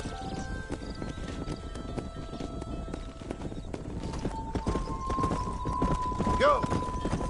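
Horse hooves clip-clop steadily through a Red Dead Redemption ranch scene as the animals are driven out to pasture, with a whinny near the end, all under continuous talk and game ambience.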